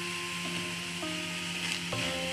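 Tomatoes go into frying masala in a pan, producing a moderate continuous sizzle with faint stirring scrapes, close and unaccompanied by talk.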